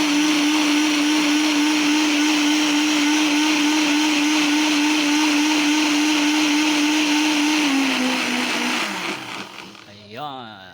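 Blender crushing chili peppers for a balut and penoy dipping sauce, a loud steady motor whir with grinding texture that runs nearly ten seconds before winding down and stopping.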